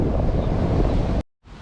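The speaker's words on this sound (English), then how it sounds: "Wind today, pretty much stopping me rolling down the hill." Strong wind buffets the microphone outdoors with a loud, continuous roar, then drops out briefly before gusting back in.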